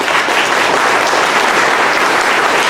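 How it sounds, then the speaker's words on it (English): Steady, full applause from an agricultural summit audience thanking a panel on farm emergency preparedness, a dense wash of clapping that holds evenly loud for the whole short stretch with no voices on top. "Let's give them a round of applause."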